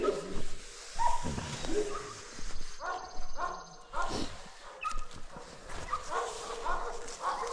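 A nervous, wary dog whimpers and gives short yips in scattered bursts, close by and mixed with a person talking.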